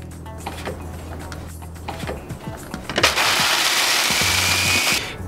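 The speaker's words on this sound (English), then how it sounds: "Put your lid on your blender and give it a blend." An electric blender whirs loudly and steadily for a couple of seconds, blending pineapple juice and rum into a pina colada, after some clattering as the lid goes on and the blender is started.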